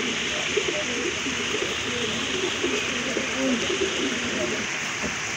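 Pigeons for sale in a loft coo in soft, repeated low calls, close by, over a steady hiss like light rain.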